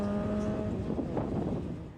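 A Hillman Imp VTR engine hums and revs briefly nearby as it drives onto the Goodwood race track, a short burst of motor noise that fades away toward the end.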